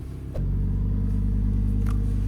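An Audi R8 V10 Performance quattro Spyder engine holds a loud, steady high-rev drone against the soft limiter, a dense rumbling roar following a short uneven burst at the start.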